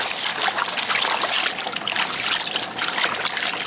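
Collard greens being washed by hand in a cooler full of water, continuous splashing and trickling close up, steady with small bursts, no talking.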